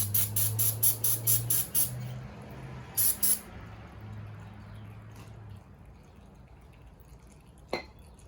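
A spray nozzle hisses in short repeated bursts while a KTM motorcycle screen is cleaned, with a faint motor hum underneath, then a longer quieter wash of spray and one sharp knock near the end.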